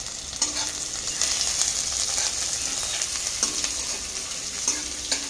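Garlic and onion fry in a kadai with a steady, close sizzle and occasional stirring scrapes, no voices over it.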